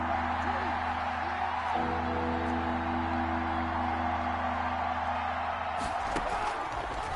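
Stadium crowd at a football game builds a broad, steady roar ahead of a big third down, distant and continuous, with a low constant hum underneath and a brief surge near the end.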